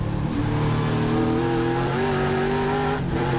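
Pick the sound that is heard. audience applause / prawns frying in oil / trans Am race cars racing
trans Am race cars racing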